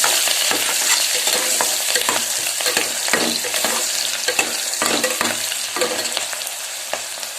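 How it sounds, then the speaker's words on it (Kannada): Two chopped onions frying and being stirred in a pan for tomato rice, a loud steady sizzle broken by frequent scraping stirs of the spoon, close by with no voices. "ಹೆಚ್ಚಿಟ್ಕೊಂಡಿರೋ 2 ಈರುಳ್ಳಿನ ಇಲ್ಲಿ ಸೇರಿಸ್ತಾ ಇದ್ದೀನಿ."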